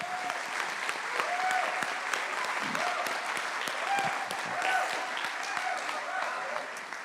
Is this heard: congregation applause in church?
yes